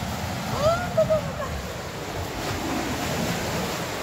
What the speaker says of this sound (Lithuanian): Bangų prineštas vanduo.